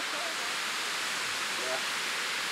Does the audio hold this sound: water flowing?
yes